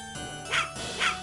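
Two short dog barks from the Samurai Shodown 2 video game, spaced apart over a steady synthesized game music background.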